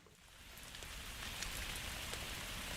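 Steady rain falling on open desert dunes, a continuous dense patter that holds at an even level throughout, close and enveloping with no other sounds.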